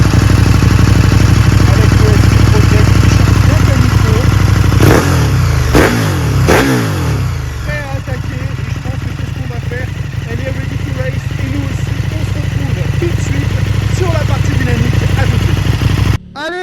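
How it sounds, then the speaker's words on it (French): KTM Super Duke 1290 with its 1300 cc twin engine cranks over, fires up with a few sharp revs, then settles into a steady, loud idle close by while someone talks over it. "il ne nous reste plus qu'à démarrer la machine. On y va, on va ébrouer le bicylindre de 1300 cm3."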